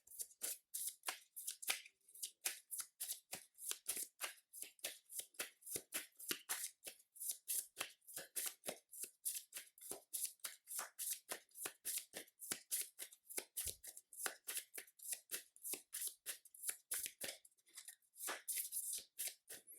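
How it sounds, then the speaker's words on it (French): A deck of Marvel Champions game cards is shuffled by hand in a long run of rapid, crisp, papery flicks, steady and close for nearly twenty seconds with no talking. "Je remélange."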